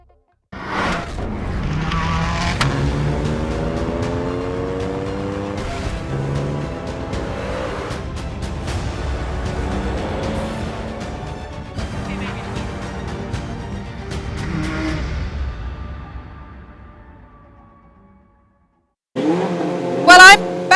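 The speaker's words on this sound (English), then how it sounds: "it's getting very noisy because we're about to see the F1 cars take to the track" Race cars at the Goodwood Festival of Speed assembly area, with Formula 1 cars about to take to the track, rev loudly and continuously for about seventeen seconds and then fade out, followed by a brief silence and a sharp burst of engine noise.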